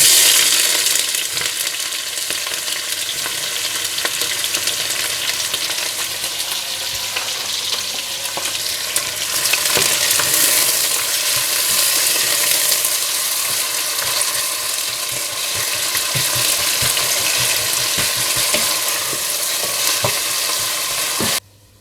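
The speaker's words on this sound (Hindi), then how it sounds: "फिर इसमें प्याज डालकर अच्छे से गोल्डन ब्राउन कर लें।" Onions frying in hot oil with bay leaves until golden brown, for fish biryani: a dense, steady sizzle with crackling pops and occasional stirring, close and loud throughout.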